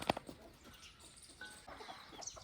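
A hen on a small farm gives a few soft, low clucks, faint and spaced apart against quiet background noise.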